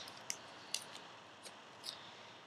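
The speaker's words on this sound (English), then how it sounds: "So now take where you folded and cut this with your scissors." Scissors cut through folded duct tape in a few quiet, crisp snips, spaced unevenly across a couple of seconds, close up with no talk.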